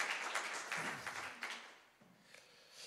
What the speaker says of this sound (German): Gib mal einen Applaus für Rebecca und Klaus.